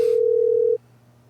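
A telephone ringback tone on an unanswered call: one steady, loud tone lasting under a second, then it cuts off, leaving only a faint hum.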